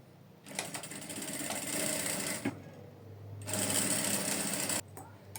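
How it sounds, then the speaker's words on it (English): A sewing machine stitches down a zipper fly in two loud, close bursts of rapid mechanical chatter separated by a brief pause, followed by a short final spurt. "let's sew it down first, because I'll sew it down"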